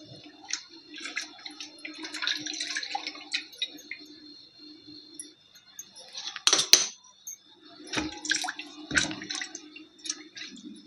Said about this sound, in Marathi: याच्यामध्ये बघा अशी धुवून घेते पाण्यामध्ये